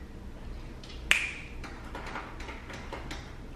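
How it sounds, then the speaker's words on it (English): A single sharp finger snap rings out close by, one crisp click over a quiet room hush, with no talking. "Snap your fingers."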